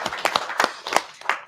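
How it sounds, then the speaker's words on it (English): Scattered claps from a small audience at a CPAC.network launch event, a handful of separate sharp hand claps in an irregular rhythm, fairly close and thin rather than a full ovation. "That deserves a clap, by the way."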